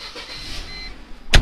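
A high-mileage Mercedes C230, at 262,000 miles, is moved out of a home garage: a quiet idle rumble, then a sudden loud mechanical burst near the end, like the engine catching or a door shutting.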